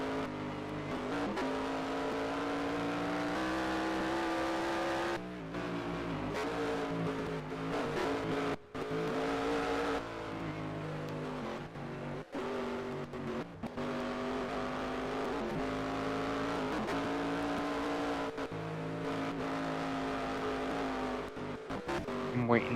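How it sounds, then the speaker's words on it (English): Race car engine in the NASCAR Racing 2003 video game, a sustained high droning whine that rises and falls with gear shifts and brief cuts as the car circles a quarry track low on fuel. "I'm waiting to hear this engine just cut out."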